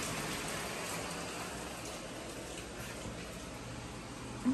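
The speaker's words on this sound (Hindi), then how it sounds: "सो गाइस बारिश और भी तेज़ हो चुकी है, पता है और भी ज़्यादा तेज़ हो चुकी है पहले से" Heavy monsoon rain falls steadily at a hill-country stay in Vagamon, a dense, even wash of close rainfall with no talk.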